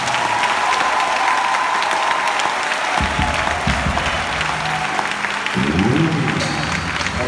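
A church congregation in Senegal breaks into sustained applause and cheering, a dense wash of clapping that stays loud and steady throughout, with a few voices rising out of the crowd noise.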